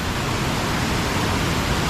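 A waterfall at the old Cwmorthin quarry roars in a steady, dense rush of falling water, close and loud with no other sounds.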